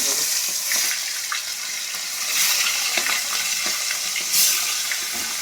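Four fish rubbed with salt and turmeric frying together in hot oil in a wok, a loud, close, steady sizzle and crackle with occasional scraping from stirring and no talk.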